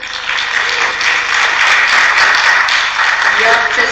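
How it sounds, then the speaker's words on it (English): Audience applause at a 130th-birthday celebration for the Smith, steady and sustained for several seconds, with some voices mixed in among the clapping. "So let's give the Smith a round of applause."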